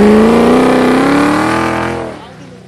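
A drift car's engine holds a loud, high rev, its pitch climbing slightly before it drops away and fades as the throttle closes.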